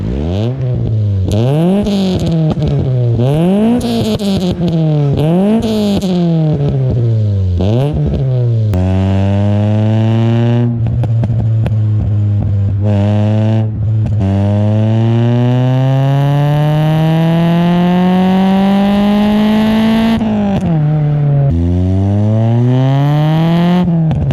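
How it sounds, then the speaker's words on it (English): A car fitted with a full stainless exhaust system revs repeatedly. Sharp climbing and falling blips give way to long sustained high revs and a steady drone, loud and close, with no talking. "This is what it sounds like with a full exhaust system."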